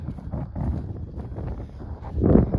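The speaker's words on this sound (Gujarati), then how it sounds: "અને મસ્ત પવન પણ આવી ગયો" Gusty wind buffets the microphone with a low, rumbling roar that swells and fades, growing strongest near the end.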